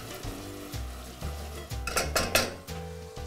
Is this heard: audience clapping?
no